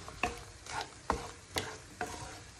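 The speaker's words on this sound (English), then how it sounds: "So onions and tomatoes in, give them a stir." Onions and tomatoes sizzle softly in a pan as a spoon stirs them, with several distinct scraping strokes over a faint frying hiss, close and quiet.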